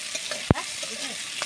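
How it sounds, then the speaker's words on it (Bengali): Shrimp and onion are stirred in a sizzling pan, with a steady frying hiss, one sharp utensil knock and a second scrape near the end. "চিংড়িটা এবারে নেড়ে নিতে হবে পেঁয়াজের সাথে"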